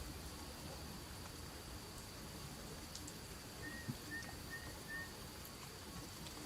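Rain falling as a soft, even wash of patter at low level, with a faint steady whine above and a few distant bird chirps partway through.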